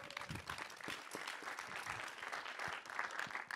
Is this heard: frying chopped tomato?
no